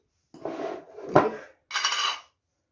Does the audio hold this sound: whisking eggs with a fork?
yes